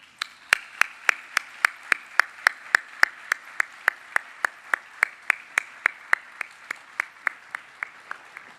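An audience at a 2018 ACPE annual conference keynote applauds to welcome speaker Kerry Egan, sparse, evenly spaced claps close by, steady and fading slightly toward the end.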